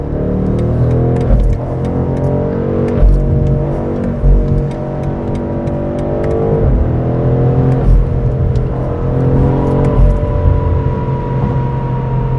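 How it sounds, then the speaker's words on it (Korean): BMW M850i Gran Coupe in Sport Plus mode driving at low speed in a low gear, its exhaust giving a loud, deep, rumbling burble with rising and falling revs and occasional crackles, heard close and alone. "스포츠 플러스입니다. 너무 속도를 올리면 안 되기 때문에 낮은 속도에서 저단 기어를 사용하고 있어요"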